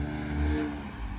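A factory-built off-road car is driven hard, its engine revving in a loud, steady roar with a deep low rumble that swells briefly before settling.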